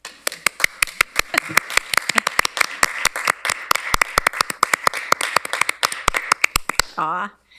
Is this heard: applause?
yes